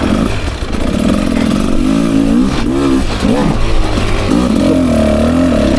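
A 2024 Beta 300 RR Race Edition motorcycle engine lugging low up a steep hump, making a loud, close, deep throbbing note that wavers in pitch as the load changes.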